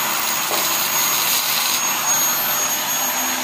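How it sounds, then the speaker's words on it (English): An electric drill runs as a load on a battery-fed generator setup, giving a steady high motor whine that holds evenly throughout. "So it is a drill that has caught this."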